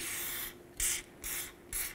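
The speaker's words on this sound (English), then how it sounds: "Let's spray this area with some penetrant." Penetrant spray hisses onto the front wheel hub of a 1992-2000 Chevy Tahoe in three short bursts, each a sharp airy spritz with brief pauses between, fairly close and alone.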